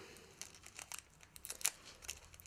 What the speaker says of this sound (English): just get a bit of sellotape, don't bother with scissors